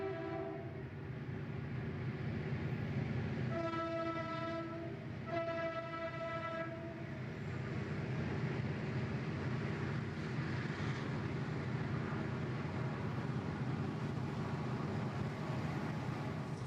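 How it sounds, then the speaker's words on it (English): BNSF westbound freight train climbing a desert grade on the Mojave mainline in 1998: a constant heavy diesel engine rumble, with two sustained multi-tone horn blasts near the start, then continuous labouring locomotive drone. "The sight of a westbound train poking its way up from below the crest of the grade"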